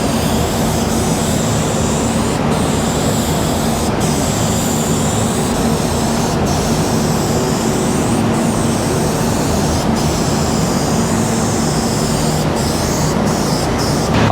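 A rattle spray can painting a car fender, a loud continuous hiss held steadily throughout with faint periodic breaks in the spray, close up.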